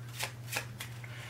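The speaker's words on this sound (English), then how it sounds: "you'd put it into the deck, or 8 cards, and I'd shuffle it in." Eight playing cards are shuffled by hand, giving three or four quick papery riffling bursts close up with a low background hum and no talk.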